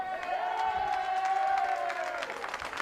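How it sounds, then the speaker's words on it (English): A stadium crowd at a women's football match between Adelaide United and Western United jeers after a tackle, a long drawn-out mocking cheer swelling and fading over steady crowd noise. "the Bronx cheers from the crowd reflect that there was a yellow card shown for this tackle here"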